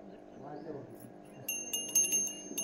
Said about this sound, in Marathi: अरे घंटा वाजवायची